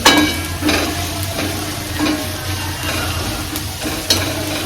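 Ground spices are roasted in a pan for an egg dish, stirred continuously so a spoon scrapes over a loud, close, steady sizzle with a few sharper knocks.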